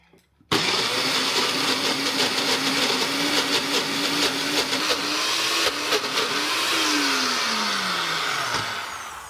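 A food processor whirs as it blends basil, nuts and olive oil. The motor starts abruptly and runs loud and close for several seconds, its pitch wavering and dipping as the mixture breaks down.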